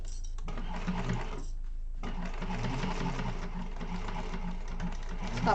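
Sewing machine stitching a seam on a Zynah bag near the thick pocket join, boxing and back stitching at 3/8 inch: a close, steady mechanical whirr with a brief pause early on, then continuous running under soft background talk.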